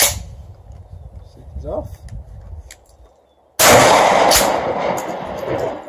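A single 12 gauge shotgun blast of a Winchester slug cracks loud and close after a quiet lead-in with a brief spoken remark, followed by a ringing, decaying tail.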